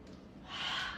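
A breathy inhale during a barre class, heard close to the microphone, swells and brightens over about a second.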